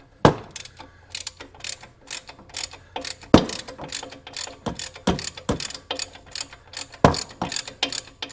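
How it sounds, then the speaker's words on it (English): A wrench ratchets on a Mazda 3 suspension bolt, giving close, crisp clicking strokes in irregular bursts with sharp metallic knocks between them. "now I should be able to fit that wrench in there"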